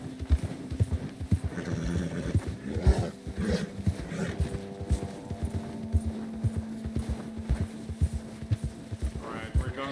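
Horse hooves clip-clopping in a steady rhythm in Red Dead Redemption 2, close and continuous, with snorts, a whinny and other game sounds, and someone talking over them.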